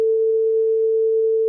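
A pure 445 Hz sine test tone sounds steadily at even loudness for about a second and a half, with no other sound.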